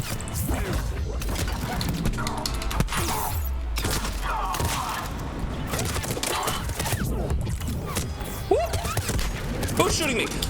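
Rapid gunfire and impact thuds from Mass Effect Legendary Edition combat, loud and continuous, with someone talking over the shooting.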